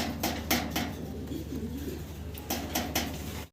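A pair of American Lakha pigeons coo softly and repeatedly up close, with a few sharp wing or cage clatters mixed into the steady low cooing.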